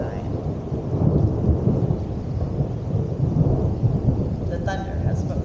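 A thunderstorm with steady rain and a deep, continuous rolling thunder rumble that swells and holds throughout, with a faint higher patter near the end.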